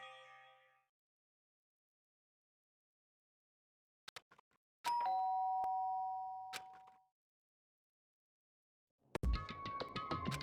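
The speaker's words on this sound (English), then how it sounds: "did I hear the doorbell?" A doorbell in the video game Danganronpa rings once, a clear chiming tone that decays over about two seconds after soft clicks, amid silence, followed by a burst of game sound.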